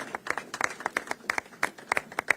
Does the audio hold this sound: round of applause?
yes